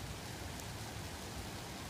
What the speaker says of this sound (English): because the rain is getting harder again